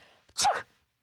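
A single short, sharp sneeze, close and loud, with a brief intake of breath just before it.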